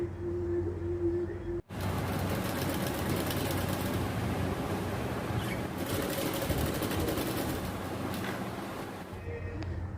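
A sewing machine runs steadily while stitching open the side of a petticoat. The motor hum is loud and close, with a brief stop early on and then continuous running.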